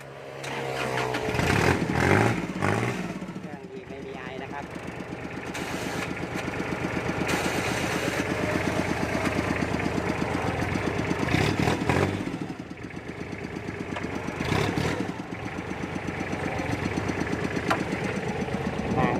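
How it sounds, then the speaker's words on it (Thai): A tractor's diesel engine starts up and then settles into a steady, loud, continuous idle with a rhythmic chugging throughout, with no talking. "เดี๋ยวลองสตาร์ทดูสักหน่อยนะครับ วันนี้เครื่องสตาร์ตติดง่ายนะครับ ไม่ต้องเผาหัว"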